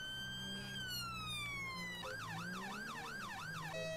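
A UK police siren in GTA 5 wails steadily, then switches to a fast yelping warble before returning to a long tone, with engine hum underneath.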